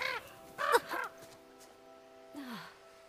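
A crow in the horror game The Quarry gives a few harsh caws in quick succession, then a lone caw follows after a pause, all set over a quiet, humming game backdrop.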